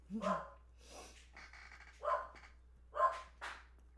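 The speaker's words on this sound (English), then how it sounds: "The dog barking at everything." A dog barks several times in sharp, irregular bursts, fairly close and loud, with quiet gaps between the barks.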